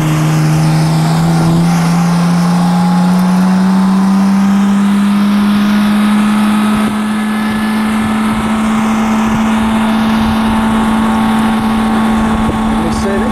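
A Ferrari F12berlinetta and a Ruf R Turbo 650 on Dymag wheels accelerate flat out, a loud, sustained engine drone rising slowly in pitch over a long pull, heard close with wind rush and no break.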